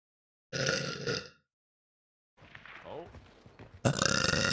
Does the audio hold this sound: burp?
yes